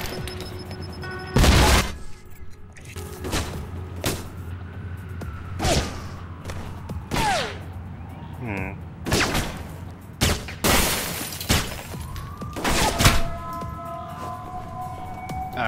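Gunfire in Alpha Protocol comes as scattered loud blasts, several heavy shots spaced across the stretch, set against a wailing siren and bits of game sound effects.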